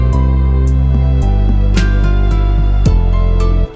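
Low tom hits in a slow 90s R&B jam beat, played at full velocity, deep booming tones repeating over a dense, loud musical loop with sustained low notes.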